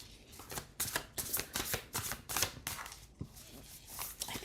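Tarot cards shuffled in quick bursts of papery riffling and flicking, close and fairly quiet, with short pauses between repeated flurries and no one speaking.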